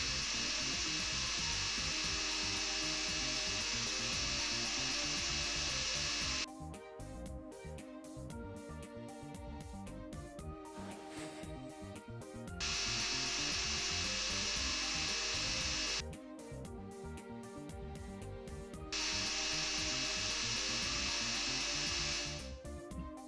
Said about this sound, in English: Now a slightly narrower drill just to take the middle out.